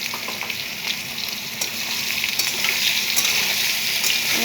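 Crab fries in a pan with a loud, close, crackling sizzle that swells slightly partway through, dotted with faint pops and light stirring, and no one speaks.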